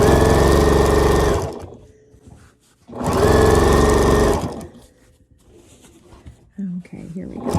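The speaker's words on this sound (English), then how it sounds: "we're just going to finish off sewing this on" A sewing machine stitches binding onto a quilt in two loud, steady runs of rapid whirring, separated by a quiet pause with small handling noises.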